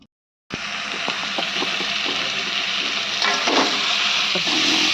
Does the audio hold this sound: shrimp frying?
yes